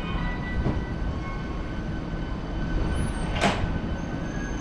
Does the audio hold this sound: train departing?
yes